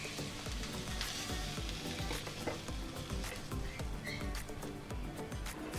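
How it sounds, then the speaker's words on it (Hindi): Onions sizzling and frying in a pan for a chicken supreme pizza topping, a steady close crackle with soft stirring clicks throughout, no voices. "2 मिनट्स के लिए फ्राई करने के बाद इनको निकाल दें।"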